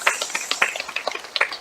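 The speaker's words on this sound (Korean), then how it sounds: "환영의 박수 할까요?" Sparse, scattered hand claps from a church congregation during a Christmas Sunday morning service, welcoming the senior pastor; short, crisp and uneven, with only a few hands joining.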